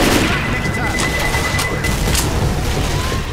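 Rapid gunfire rattles through a Left 4 Dead zombie fight, loud, sharp shots stacking into dense bursts with a few separate cracks standing out, while voices call out over the firing.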